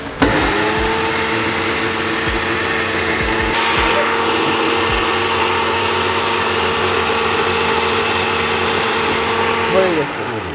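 A kitchen blender grinds whole coriander seeds into powder, its motor roaring with a loud, steady whir that runs unbroken for about ten seconds before winding down near the end.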